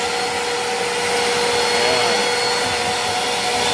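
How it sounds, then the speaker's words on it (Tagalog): A vacuum cleaner runs steadily with a loud, even whining roar while dust is cleaned off a surface before waterproofing is applied, close and continuous without talk. "Ayan yung vacuum."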